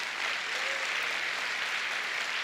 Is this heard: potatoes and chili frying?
no